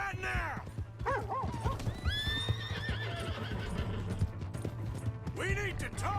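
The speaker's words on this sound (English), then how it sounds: "Hey, that's my horse!" A horse in a video game whinnies loudly several times while hooves clip-clop steadily underneath, with other game sounds mixed in.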